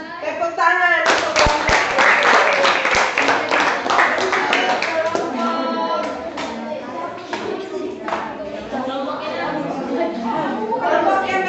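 Seventh-grade students in a classroom applaud the next presentation group with quick, loud, close hand claps that taper off into overlapping children's talk and chatter.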